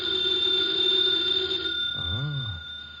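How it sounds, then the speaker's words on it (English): An old telephone bell rings steadily and close in a quiet room, then cuts off as a short voice-like sound follows, in a period mystery drama. "Should never ignore a phone call."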